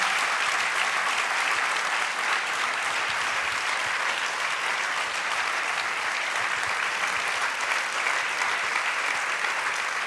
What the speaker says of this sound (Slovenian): Mi pa ploskamo in ploskamo.